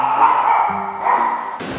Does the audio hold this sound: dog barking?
yes